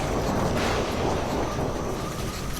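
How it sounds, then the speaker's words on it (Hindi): Fierce storm wind roars outside a shelter at night, a dense, steady rush of noise with deep rumbling gusts and no voices. "अरे शायद तूफान आया है रे बाहर"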